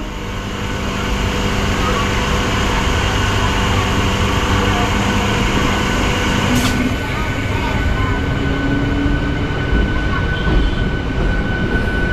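MEMU passenger train pulling away after a signal clears on the Mettupalayam–Coimbatore–Podanur line, a loud continuous rumble and rattle heard from inside, with a steady tonal hum and a brief squeal partway through.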